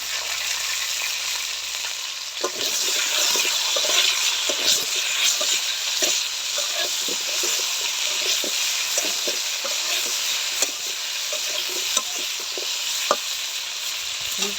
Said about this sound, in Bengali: ভালো করে ভাইজা নিব